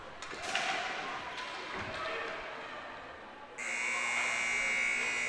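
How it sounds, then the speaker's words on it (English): An end-of-period buzzer sounds at an indoor ball hockey game, a steady electric drone that starts suddenly and runs to the end, following arena noise, thuds and a commentator talking. "Gonna let the buzzer go."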